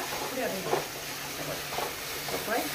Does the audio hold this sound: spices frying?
yes